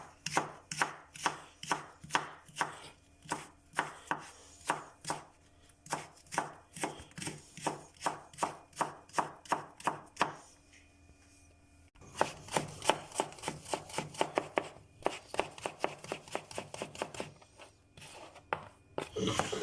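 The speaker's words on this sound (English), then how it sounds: "I have sliced the carrot in 5 strips, and now I'm gonna start cutting them quite fine" A knife chops carrot strips finely on a cutting board for chicken pulao, a fast steady run of crisp close taps with a brief pause partway through before the rhythm resumes.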